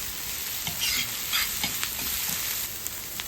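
Smashed eggplant stirred into softened, lightly browned onion in a hot pan for a spicy eggplant bharit, with steady close sizzling and frying broken by repeated scraping stirs, no voices.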